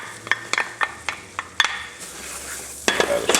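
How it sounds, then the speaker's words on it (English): Carrots are stirred into a simmering crawfish fricassee in a pot, giving a few distinct scraping and clinking spoon strokes over a soft bubbling background. "Add a stir."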